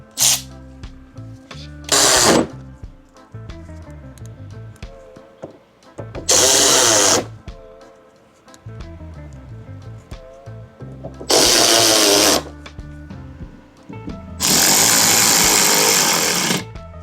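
A power tool drives screws back into a car bumper in five loud, short whirring bursts separated by quieter handling noises, the later bursts running longer.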